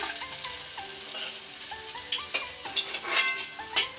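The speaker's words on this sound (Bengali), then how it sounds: "মাছগুলো লাল লাল করে ভাজা হয়ে গেছে এবার আমি তুলে নিচ্ছি" Fried katla fish being lifted out of hot oil, the sizzle of frying continuing beneath light scrapes and clinks of a spatula against the pan, close and clear with no talking.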